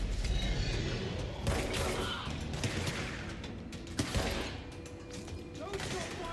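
Gunfire in the video game Control, a dense, continuous stream of shots and mechanical clatter over several seconds with sharper bursts standing out, under faint voices.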